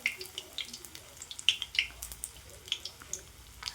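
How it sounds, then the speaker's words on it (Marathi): Fenugreek leaf fritters (methi bhaji) frying in hot oil over a medium gas flame give a steady, soft sizzle broken by scattered pops and crackles. "आता सर्व भाजी आपण थोडे थोडे करून तळून घेणार मध्यम गॅसवर"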